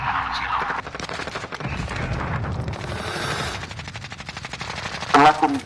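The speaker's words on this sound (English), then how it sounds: "They're shooting through the fucking concrete." Rapid automatic gunfire and shots crackle through a Call of Duty Modern Warfare multiplayer match, with bursts continuing over game noise and a loud blast near the end, while players talk throughout.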